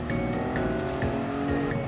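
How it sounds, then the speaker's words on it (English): In a Gran Turismo 7 rally race, a car's engine drones continuously with tire noise while repeated scraping thumps mark it grinding against the wall, close and loud, without any talking. "I'm hitting the wall. You guys can hear that"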